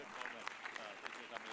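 Ariane 6 launch managers clap in a control room during the rocket's maiden flight at the Guiana Space Center, a soft, steady patter of applause with scattered sharper claps, fairly faint and continuous throughout.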